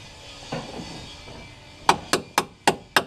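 A socket with extensions tapped down onto a bolt under a Dodge Ram truck, five sharp metallic hammer knocks in quick even succession after a couple of softer thuds, close and distinct.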